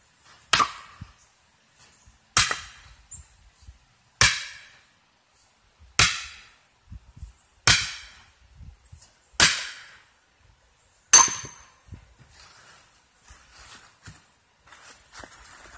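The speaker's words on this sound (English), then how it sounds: "7 whacks is all it took. Just to split it." A wood wedge driven into a log with seven hard, evenly spaced whacks about two seconds apart. Each blow is a loud, close, sharp crack with a short decay. The split log gives a softer rustle afterward.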